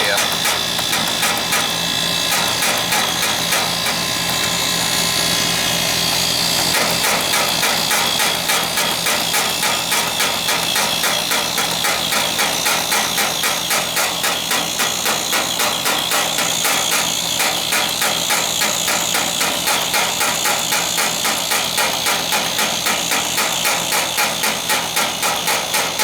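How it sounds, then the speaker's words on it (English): Air conditioner pumping refrigerant down into the condenser during a repair, a steady loud mechanical hum with a fast rapid buzzing rattle throughout, close up and continuous for the whole stretch. "Pumping all the refrigerant into the condenser here."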